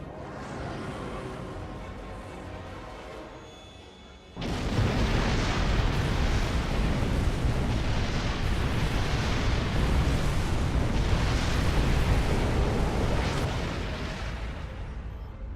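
Planet killer ship blowing up in the space video game Star Trek Online: a sudden massive explosion bursts in after a quieter stretch, then a long, loud, rumbling roar of debris and fire that slowly tapers.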